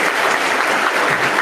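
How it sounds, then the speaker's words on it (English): Basketball crowd from both sides gives an injured high school player a steady round of applause as she limps off the court, dense clapping with no voices. "Gets a round of applause from both sides."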